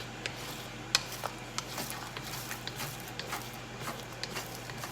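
Scrambled eggs being stirred in a wok, soft scraping and light taps of a utensil against the pan over a faint quiet sizzle, with small irregular clicks throughout.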